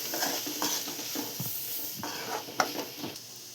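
Spices with chilli powder and chicken masala sautéing in a pan for okra thoran, fairly quiet, with intermittent scraping stirs over a faint sizzle.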